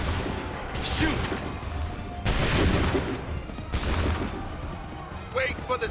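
Musket volleys in Assassin's Creed 3: several sharp, crashing rounds of massed gunfire about every second and a half, loud and near, with shouted commands between the blasts.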